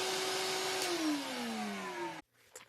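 A bagless vacuum cleaner runs with a steady, loud motor whine whose pitch slowly falls over about two seconds before it cuts off abruptly, leaving faint after-noise.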